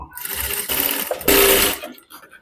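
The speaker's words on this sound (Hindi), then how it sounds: "मैं ऊपर साइड सिलाई लगा रही हूँ।" Sewing machine running steadily while stitching a double katori blouse, the motor whirring in continuous bursts that surge and pause, close and loud, with a voice faintly under it.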